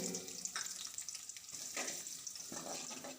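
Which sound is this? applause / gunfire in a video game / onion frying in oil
onion frying in oil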